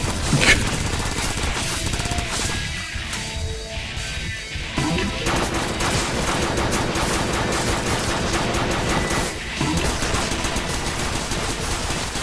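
Rapid gunfire from fire bullets in the top-down shooter Crimsonland, a dense, continuous stream of shots with crashing impacts that runs loud and steady throughout, with a brief thinning in the middle.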